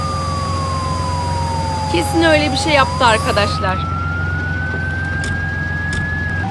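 A wailing ambulance siren sweeping slowly up and down in pitch, steady and close, while a person speaks briefly over it.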